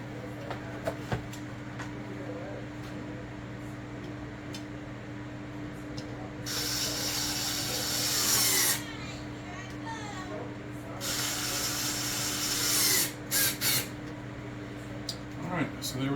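A power drill or driver tightens the mounting screws of a new ceiling fan mounting plate. Two bursts of whirring a few seconds apart, then brief stops near the end, over a steady low hum.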